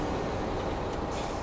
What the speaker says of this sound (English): Train's coming, train's coming.